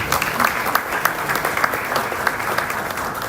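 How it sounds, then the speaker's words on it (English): A conference audience at a Nairobi event claps steadily and fairly loudly throughout, with dense, even applause and no clear voices over it. "A round of applause to him, please."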